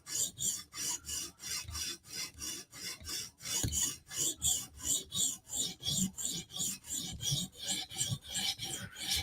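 A Spyderco Slysz Bowie knife blade is stroked across a sharpening stone in quick, regular rasping passes, about two per second, close and crisp with brief gaps between strokes.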